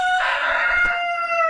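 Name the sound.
chickens clucking and a rooster crowing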